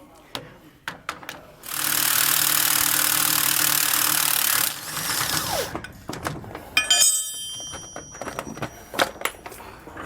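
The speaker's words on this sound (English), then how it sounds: "I'm going to go ahead and get my impact on here, and we'll get the rest of this off" An impact wrench on a 2019 Coachmen Pursuit motorhome rattles loud and steady for about three seconds, loosening the rear anti-sway bar and shock hardware, with clanks of tools and parts around it and someone speaking.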